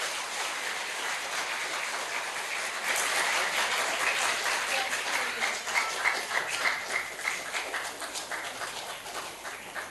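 An audience claps steadily, starting as even applause and swelling into a fuller burst partway through, with rhythmic claps standing out near the end.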